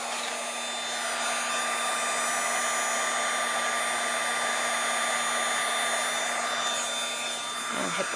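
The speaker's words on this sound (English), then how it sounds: "let my heat tool run for a second" A heat embossing tool blows hot air over embossing powder, giving a loud, close, unbroken whirring rush with a steady motor whine that continues evenly for several seconds and cuts off abruptly at the end.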